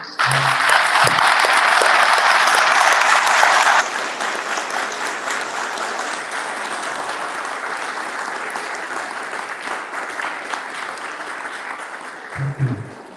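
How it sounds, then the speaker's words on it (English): A graduation ceremony audience gives a big round of applause, loud and dense for the first few seconds, then settling into a softer, sustained clapping that carries on for a long stretch, with a voice briefly at the start and end. "Can we have all give a big round of applause?"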